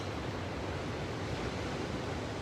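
Steady ocean surf washing continuously at moderate distance during a meditation, a soft unbroken roar of waves with no talking.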